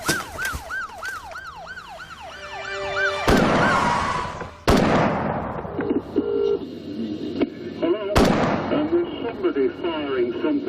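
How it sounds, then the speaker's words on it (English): Loud, close cracks from a rifle fire in a few separate bursts during the Hungerford shooting, each ringing out with an echo, after a wailing siren-like tone at the start, with some faint voices in the background. "Firing something which sounds like an automatic rifle."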